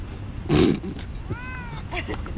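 A cat meows near a parked car at a dam campsite in Thailand, one drawn-out tonal call amid a few short bursts and some low voice sounds.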